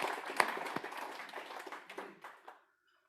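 Audience applause at a service celebration event, steady scattered clapping from a crowd that continues for over two seconds, then stops abruptly.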